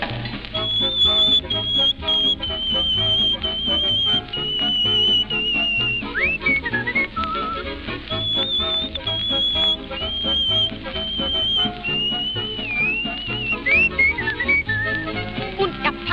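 Melodic whistling imitates a parrot singing a tune in a German schlager song, with rising and falling whistled phrases carried over a dense orchestral accompaniment.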